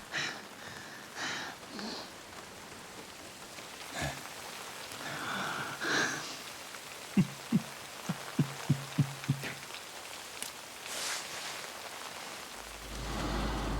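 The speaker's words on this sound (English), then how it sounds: "Oh, it's raining now." Rain falling in a crime-drama video game, a soft steady patter on surfaces with scattered drops, plus a short run of faint rhythmic thumps partway through and a low hum at the end.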